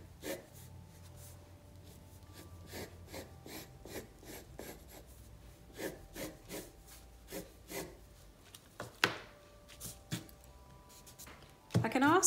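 A pencil scratches and rubs over paper in short repeated strokes while contour lines are darkened, close and soft with a rhythmic rasp, under a voice talking.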